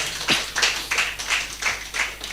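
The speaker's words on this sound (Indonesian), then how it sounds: "berikan tepuk tangan bagi Tuhan" A congregation claps at a church service, a few sparse, moderately quiet claps that land in a loose rhythm, roughly one every half second.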